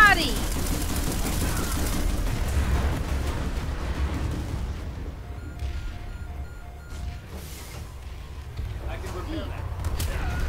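Heavy tank fire and explosions in the video game PlanetSide 2 open with a loud blast and rumbling crashes, then thin into scattered impacts and distant booms while a player exclaims over the action.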